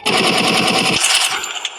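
Rapid automatic gunfire in the video game Free Fire rattles in a fast, continuous burst for about a second, then gives way to scattered, echoing shots and game effects.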